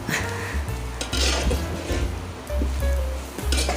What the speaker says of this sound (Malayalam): ആ ചെറു തീയിൽ കിടന്ന് നല്ല പോലെ വറുത്തെടുക്കാം വളരെ സമയമെടുത്ത് വേണം അത് വറുത്തെടുക്കാൻ